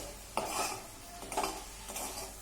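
Bitter gourd curry with cumin being stirred in a pan, giving a few soft scraping strokes and light utensil clinks over a faint background sizzle, close and quiet, with no voices.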